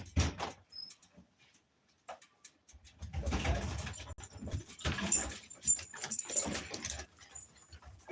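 Dogs whimper and whine indoors near a wood stove, with short high-pitched cries and scuffling that come in bursts between quiet pauses.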